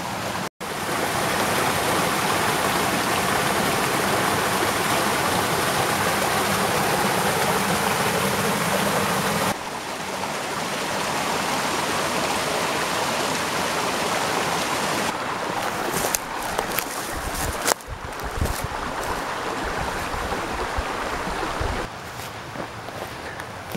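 Steady rushing murmur of a stream running outdoors near a prehistoric altar site above the Atlantic coast, broad and continuous, close and fairly loud, with a brief knock and some wind buffeting later.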